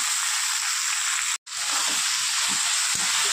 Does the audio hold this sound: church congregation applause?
no